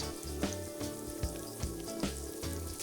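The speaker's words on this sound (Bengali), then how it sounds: "সব কিছু ভালোভাবে ভেজে নেব" Cubed capsicum and pizza topping stir-frying with soy sauce in a pan: a steady close sizzle with soft rhythmic scraping and stirring thumps, alone without talk.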